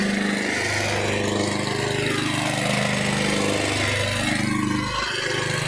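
A Kubota lawn mower engine, restarted and smoking slightly, runs steadily and loudly throughout with a continuous droning hum and no talk.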